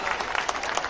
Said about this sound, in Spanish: Más fuerte todavía que se escuche el aplauso para animar aún más a estos chicos